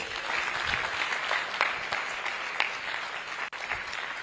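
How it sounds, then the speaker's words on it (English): An audience claps steadily at a development forum event, a dense, continuous applause with scattered sharper claps throughout and no break. "Please continue clapping."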